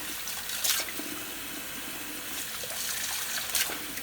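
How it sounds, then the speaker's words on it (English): Warm, tepid tap water running into a container, a steady close rushing pour with slight splashy surges, continuous and alone. "Okay, so now I'm going to put in some warm water,"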